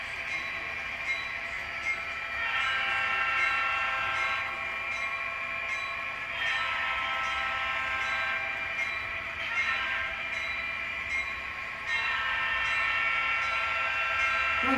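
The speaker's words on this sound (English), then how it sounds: "Here we are going to bring the train back in" An HO scale model train of RF&P 126 running on a layout, with steady mechanical rolling and a sustained tonal horn or whistle-like sound swelling in repeated long blasts, close and continuous throughout.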